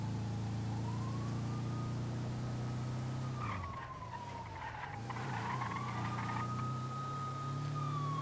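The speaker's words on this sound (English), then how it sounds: "I heard another siren." A police car siren wails in a GTA roleplay video game, rising and falling in long sweeps over a steady engine drone, briefly dipping and wavering midway before resuming its loud, continuous howl.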